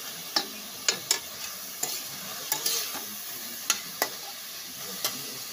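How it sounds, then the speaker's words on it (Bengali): Lafa greens frying and being stirred in a pan: a steady soft sizzle under sharp, irregular scraping clicks from the utensil, close and moderately loud, with no voices. "পাতাগুলো একটু ভেজে নিতে হবে"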